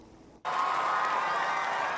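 A huge crowd at the Brandenburg Gate in Berlin breaks into loud, sustained cheering and applause after a brief quiet moment, a dense roar that holds steady to the end.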